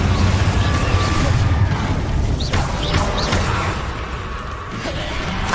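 A Confringo blasting spell explodes in Hogwarts Legacy with a loud, sustained rumbling blast and quick whooshing swishes over a dense, continuous bed of game combat noise.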